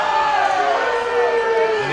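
A loud New York crowd at a women's team handball gold medal game roars in protest at a referee's call, a sustained wash of shouting and whistling that stays steady throughout.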